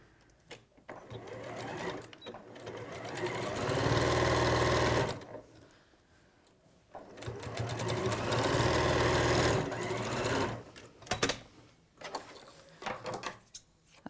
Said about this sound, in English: Right, so I'm just going to stitch along here.